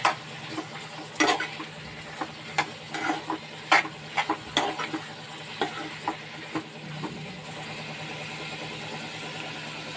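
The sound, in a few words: capsicum and egg curry stirring and frying in pan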